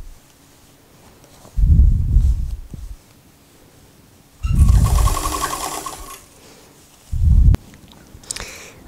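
A sewing machine stitching a Simplicity 8910 dress at the underarm, with three close bursts of rapid whirring stitching separated by pauses, including a short back-and-forth run.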